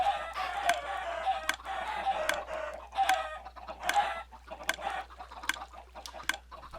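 Minecraft chickens cluck in steady, repeated bursts of clipped squawks at moderate volume, with no talking.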